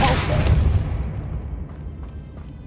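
A Depulso spell cast in the game Hogwarts Legacy bursts out as one loud, booming blast, its impact filling the opening second before rumbling away into a long decaying tail.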